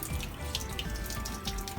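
Water runs steadily from a newly installed reverse osmosis faucet into a sink, a continuous close hiss and splash with no voices.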